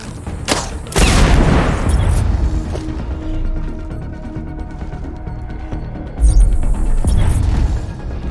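Explosions boom in the video game Sniper Ghost Warrior Contracts 2, two heavy blasts a few seconds apart, each followed by rumbling debris and a lingering low roar.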